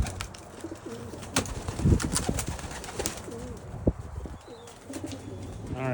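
Pigeons in a loft coo repeatedly, soft throaty coos close by with scattered rustles and knocks around them.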